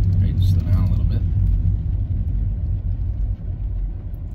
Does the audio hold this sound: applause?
no